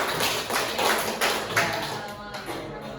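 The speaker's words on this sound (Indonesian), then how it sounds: "silakan tepuk tangan untuk kelompok 2" A class of students applauds for the second group in a classroom. The clapping is dense and steady, with scattered voices mixed in throughout.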